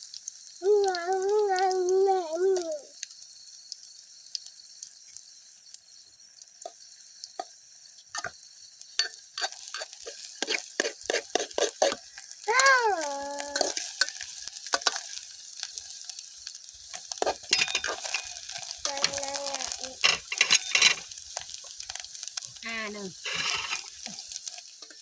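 Eggs fry in oil in a small pot, a continuous loud sizzle with crackling bursts, while a voice talks intermittently over it.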